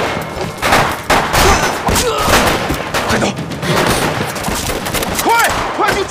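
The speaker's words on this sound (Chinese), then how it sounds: "我现在就下令开枪。" Rapid bursts of gunfire crackle through an action scene in a kung fu film set in wartime China, with dense overlapping shots, shouting voices and general commotion throughout.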